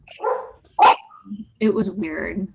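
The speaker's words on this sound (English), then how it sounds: "I apologize about my dog." A pet dog at home gives one sharp bark in the middle of talk on an online virtual classroom call, with a person speaking before and after the bark.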